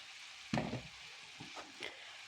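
Chopped zucchini hits hot oil in a vegetable stew, giving a sharp burst of sizzling followed by quieter crackles and a couple of brief stirring scrapes, close and fairly soft.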